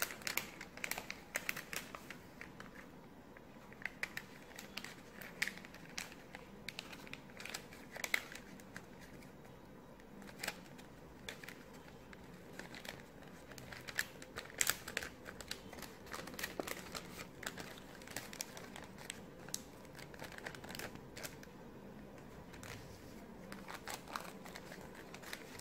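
Paper being folded and creased for an origami flapping bird, soft close crinkles and rustles with occasional sharper crisp snaps, continuous and quiet throughout.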